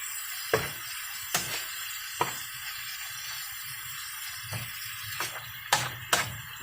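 Minced meat for lasagna sizzling steadily in a hot pan, with occasional sharp clicks and scrapes of stirring punctuating the constant frying hiss; no talking.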